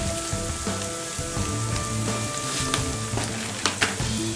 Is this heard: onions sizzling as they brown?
yes